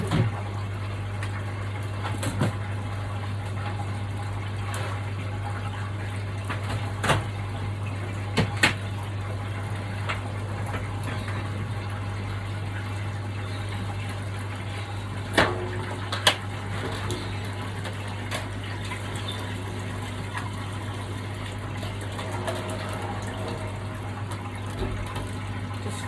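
Pet water bottle being filled with water indoors, a soft steady trickle under a constant low mains hum, with a few faint clicks and knocks of handling scattered through.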